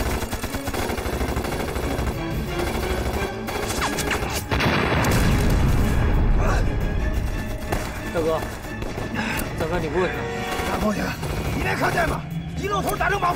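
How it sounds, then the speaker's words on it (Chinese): Gunfire and explosions in a Chinese war drama set during the anti-Japanese war: loud bursts of rifle and machine-gun fire with booming blasts, mixed with voices and a dense, chaotic battle soundtrack. "你听这枪声"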